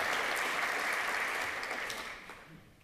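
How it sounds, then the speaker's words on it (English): Audience applause welcoming a panelist at a presidential election discussion event, a dense burst of clapping that stays strong and then tapers off steadily into a few scattered claps. "And you are allowed to applaud as these people are."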